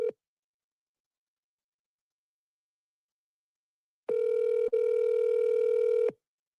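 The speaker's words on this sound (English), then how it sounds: "he don't want to pick the phone up" A phone ringing unanswered: a brief electronic ring tone at the very start, a long silence, then one sustained two-second ring tone, steady and clear with no voices.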